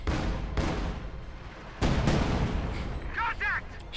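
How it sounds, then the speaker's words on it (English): Artillery barrage in the WWII strategy game Company of Heroes 2, a series of heavy booms and blasts rolling one after another beneath a talking voice. "they're getting annihilated by the artillery barrage going down"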